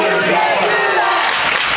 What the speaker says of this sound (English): The old Bronx cheer there, Mike.